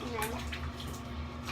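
Water splashes and pours over a dog during a bath in a tub, a soft continuous rushing with a faint steady hum underneath, as a person talks quietly.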